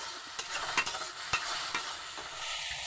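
Turmeric, chili powder and mustard paste masala sizzling in a pan, stirred with a few sharp scrapes against steady frying hiss; close and fairly quiet, no voices.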